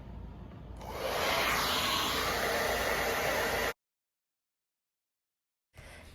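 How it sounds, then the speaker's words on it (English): A hair dryer fitted with a diffuser blows steadily on thick curly hair, a loud, close, even rush of air that runs for about three seconds, cuts off into silence, then starts up again briefly at the end. "I'll probably have to diffuse for about 30 more minutes to get my hair completely dry"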